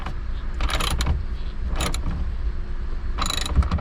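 A Hyundai Elantra tail lamp being tightened into place, giving three short bursts of ratcheting, clicking mechanical sound against a steady low background hum.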